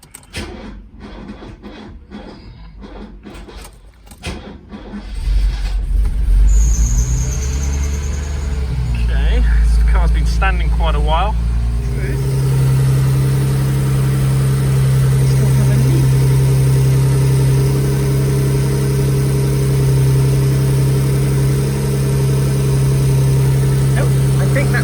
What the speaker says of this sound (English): fire up the car, assuming it starts of course, and see if we've still got a leak